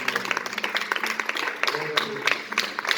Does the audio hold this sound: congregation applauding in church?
yes